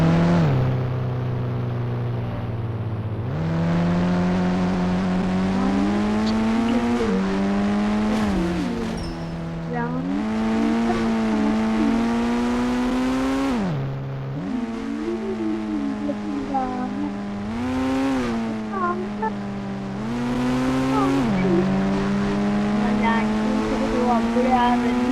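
Motorbike engine in the Indian Bike Driving 3D game, droning steadily and rising in pitch through repeated revs and gear shifts, with brief dips between accelerations, under a voice talking.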